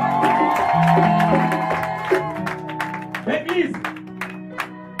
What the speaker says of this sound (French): Des acclamations de Sylvie